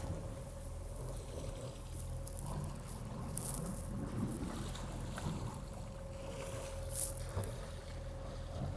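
Sailing yacht motoring at night under engine at sea between Ibiza and Gibraltar, a steady low drone with a constant hum, wind and water wash around it, and a few faint clicks.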